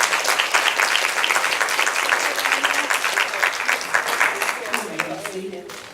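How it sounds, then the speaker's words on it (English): Audience applause fills a forum hall at a get-out-the-vote event, dense steady clapping from a crowd held for about five seconds, then thinning and fading as a voice begins to speak near the end. "Let's give him a round of applause."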